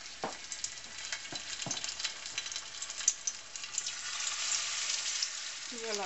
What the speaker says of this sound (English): So, all sizzling.